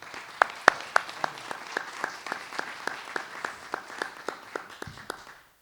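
Sparse applause at a forum on peasant, fisher and aquaculture rights in Mexico, greeting the rector of the Autonomous University of Chapingo: a few distinct, evenly spaced claps over a soft bed of clapping, fading out at the end.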